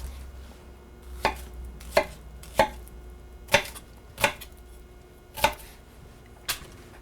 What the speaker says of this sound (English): So I'm just going to cut down through, maybe do 5 different chops through it